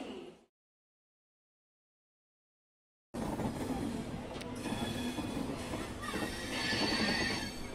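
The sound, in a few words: Patna Howrah Jan Shatabdi Superfast Express train departing Howrah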